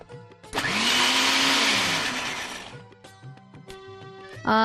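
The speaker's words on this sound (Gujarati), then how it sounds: "રિયા, આપણું મિશ્રણ ક્રશ થઈ ગયું છે." A mixer grinder purées a gravy mixture in its jar with a loud, steady whir for about two seconds and then spins down, followed by brief kitchen clatter and a sudden musical sting.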